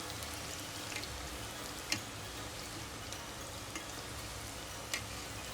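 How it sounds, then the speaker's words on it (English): Homemade Mexican tortilla chips fry in hot oil, giving a steady, even sizzle with faint scattered pops and crackles throughout. "so we're just gonna fry these up"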